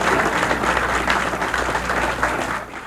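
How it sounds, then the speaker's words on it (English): Steady, dense applause from a room of reporters and onlookers as Don Shula, Dolphins head coach, walks into his final news conference, continuous and fairly close throughout. "Don Shula entered his final news conference as Dolphins head coach to applause"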